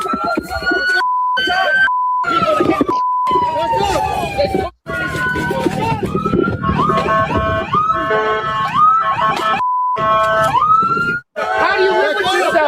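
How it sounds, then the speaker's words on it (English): Emergency sirens wail and yelp in rising and falling sweeps, loud and close, with tones shifting between patterns, while voices talk over them. "Oh, sirens."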